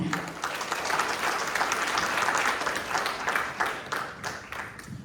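An audience at an economics lecture applauds to welcome a professor to the stage, giving steady, dense applause that holds for several seconds at a fairly loud level without voices on top.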